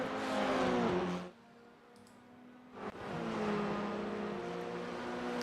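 A Formula 4 race car at Circuit Zolder, its engine loud and close, then dropping away into a brief gap before another car's engine note rises and holds, steady and strong as it pulls away.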